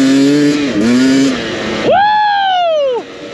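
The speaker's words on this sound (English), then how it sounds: "Oh, I need this bike. The KLX." A Kawasaki KLX dirt bike engine revving hard during a ride, close and loud: a droning run, a short drop and recovery, then a sharp rising rev that holds and falls away.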